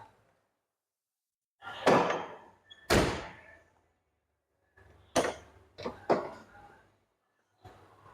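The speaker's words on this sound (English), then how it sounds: "So here's the rear door opening." Rear door of a Toyota Corolla KE30: a few sharp metallic clunks and latch thunks separated by silence, close and fairly loud, with a couple of quick clicks near the end.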